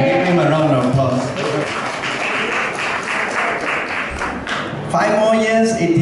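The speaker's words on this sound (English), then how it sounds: "Give him a round of applause." An audience at an art book launch and solo exhibition gives a round of applause, a dense, steady wash of clapping that carries through most of the stretch and ends with a louder burst.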